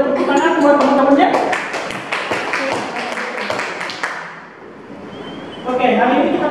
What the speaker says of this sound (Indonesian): boleh tepuk tangan buat teman-temannya